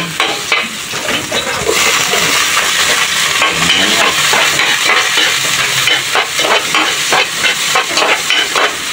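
Onion and garlic sauté loudly in a pan, with a dense continuous sizzle and hiss broken by frequent scraping stirs that hold close and constant throughout.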